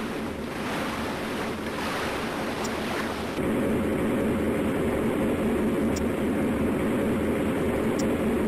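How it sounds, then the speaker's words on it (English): Submarine diesel engines running in the Silent Hunter game give a steady, low rumbling drone beneath a wash of sea and wind noise, growing a little louder and denser partway through, with no voices. "Now running on diesel engines."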